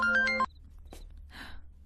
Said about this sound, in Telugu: ఫోన్ వచ్చింది బేబీ, ఫోన్